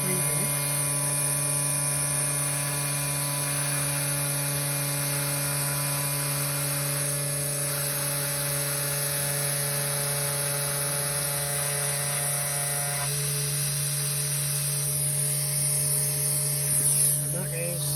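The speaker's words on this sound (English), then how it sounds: "Let me just turn the hoover off." A hoover (vacuum cleaner) runs steadily beside a CNC machine mid-job, a constant droning hum with bright high whine, loud and unbroken throughout, with faint mechanical shifts near the end.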